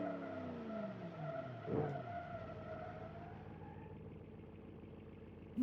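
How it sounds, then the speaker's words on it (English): A 3-ton limousine skids its tyres during a hard brake test, with a steady engine note and a brief rising squeal and thump as it slows, heard alone. "All right, brake test. Brake test. Here we go."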